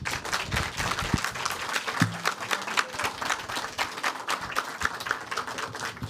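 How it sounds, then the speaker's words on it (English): An audience at a debate showcase claps for the debaters, a dense, steady round of applause from many hands that holds at an even level throughout, with a few brief low thumps underneath and no talking. "let's give our debaters a round of applause."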